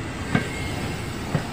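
A KRL commuter electric train rumbles along close by at Jatinegara Station with a steady roar, two soft wheel clunks marking the rail joints about a second apart.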